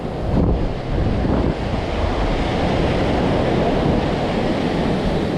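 Ocean surf on a beach rolls in a steady, loud wash of broadband noise while wind buffets the microphone, with no voices heard.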